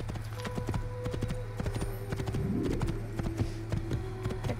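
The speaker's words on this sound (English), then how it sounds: "Clippity clop, clippity clop, clippity clop." Horse hooves clip-clop at a steady trot in Assassin's Creed, a brisk run of close, clear hoofbeats over a low background hum, with no voices.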